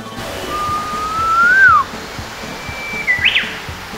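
Someone whistles an imitation of a Japanese bush warbler outdoors: a long, clear note that slowly rises and then drops, followed after a pause by a higher short flourish, loud and close with no talking.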